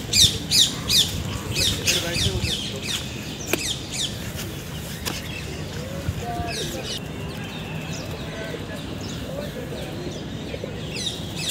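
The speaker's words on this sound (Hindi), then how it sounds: "इसमें बहुत सारे कबूतर हैं यार" Many pigeons in an old well near the Qutub Minar in Delhi give off harsh squawks and flutters, loudest at the start and then thinning out over a steady outdoor hum, with a person talking nearby.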